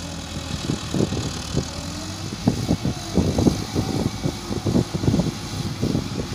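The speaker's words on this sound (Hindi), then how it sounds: "मट्टी की ट्राली भराई की है 385 ट्रैक्टर उस ट्राली को खींच के लेके आएगा" A 385 tractor engine chugs steadily while hauling a trolley loaded with soil, a low rumbling drone with uneven pulsing knocks, moderately loud and close, with no voices.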